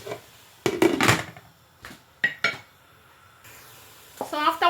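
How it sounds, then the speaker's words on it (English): A utensil scrapes and clinks against a cooking pot while Nigerian jollof rice is stirred, in a few short irregular bursts separated by quiet pauses, followed by faint sizzling and a brief voice. "And then I stir this, cover it for like 1 minute."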